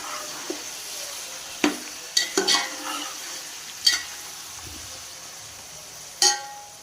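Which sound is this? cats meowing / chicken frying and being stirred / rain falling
chicken frying and being stirred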